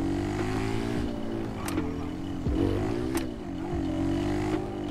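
A motorcycle rides through a GTA V game world, its engine droning steadily at a low, moderate level with slight rises and dips in pitch.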